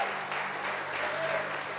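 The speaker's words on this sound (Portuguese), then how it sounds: "Aplauda a vida desses homens e mulheres" A church congregation applauding together, many hands clapping in a steady, fairly soft wash that holds evenly from start to finish.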